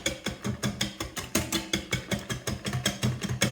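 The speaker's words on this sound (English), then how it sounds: "Whisk those together really well." Heavy cream and powdered sugar are whisked by hand in a bowl, making quick, regular tapping and scraping strokes, about five per second, close and steady with no talking.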